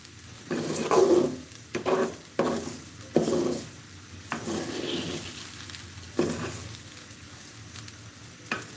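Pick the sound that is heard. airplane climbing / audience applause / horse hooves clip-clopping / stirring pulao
stirring pulao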